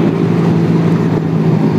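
A motorcycle fitted with a ROB 1 exhaust (knalpot) runs on the road, giving a loud, unbroken low rumble with heavy wind buffeting.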